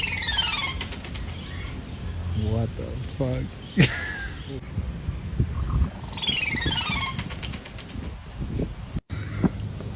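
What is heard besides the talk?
bird calling, pigeon-like cooing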